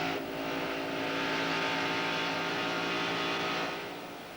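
NASCAR stock cars race at Atlanta in 1991, a sustained roar of engines swelling to a loud peak and then easing slightly as the pack passes, with no talk over it.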